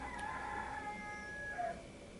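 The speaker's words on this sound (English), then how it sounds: "I wish that little rooster would shut up" A rooster crows faintly in the distance, a thin drawn-out call against quiet background hiss.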